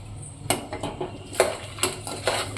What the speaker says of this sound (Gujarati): હવે આપણે આ 1 વાટકી દાળ પલાળી હતી એ નાખીશું.